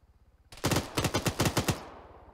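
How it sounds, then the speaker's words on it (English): Rapid automatic gunfire in the Arma 3 military video game: a tight burst of about eight sharp shots over roughly a second, loud and close, ending abruptly into quiet background. "Did Kaneki take a shot"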